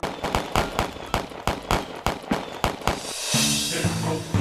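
Rifle fire at an Army ROTC firing range: a rapid series of about ten sharp, loud cracks at irregular intervals, then a sustained rumbling noise with a faint mechanical tone.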